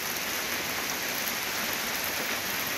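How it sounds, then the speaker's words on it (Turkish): A sudden, heavy rain shower with hail in Isparta, Turkey, sounds as a dense, steady roar of drops hammering surfaces, loud and unbroken with no voices. "Isparta'da aniden bastıran kuvvetli sağanak ve dolu yağışı hayatı olumsuz etkiledi."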